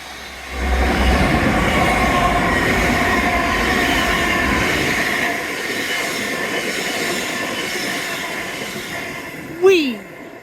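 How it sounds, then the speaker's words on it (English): A train rumbles past close by for several seconds, a broad steady roar of wagons on rails, fading out before a brief sharp wheel squeal near the end. "Not a happy train though."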